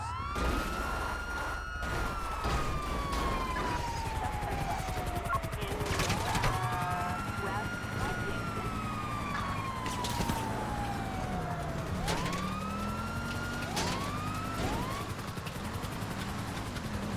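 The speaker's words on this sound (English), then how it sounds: "I don't know why I had my sirens on." Several police sirens in a video game wail in rising and falling sweeps, overlapping one another, over a dense rumble with scattered gunfire-like bursts and a brief voice.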